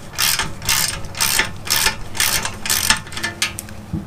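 A ratchet wrench loosening bolts on a rusty plate on a Suzuki TS185 motorcycle frame, with quick repeated clicking strokes in a steady rhythm, close and fairly loud, with no talking.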